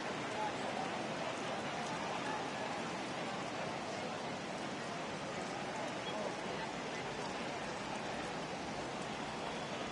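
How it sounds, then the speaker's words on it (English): Steady rain pours over a baseball game in a PS4 video game, a constant hissing wash that stays even throughout with faint speech beneath it. "the rain starting to intensify here. It's coming down a little heavier now."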